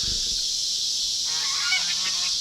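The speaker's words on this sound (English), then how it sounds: "we shoot the geese off, and now they're coming back." Geese honk faintly in the distance, their calls half buried under a loud, steady rushing hiss.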